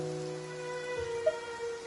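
Steady rain falling in a video game, a continuous soft patter on surfaces with a faint musical tone underneath and a small chime near the end.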